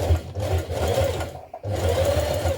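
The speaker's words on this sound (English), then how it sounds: "Now top stitch around the outer edge of the collar stand." A sewing machine topstitches around the outer edge of a shirt collar stand, running in a loud, close, continuous buzz with one brief pause before it starts again.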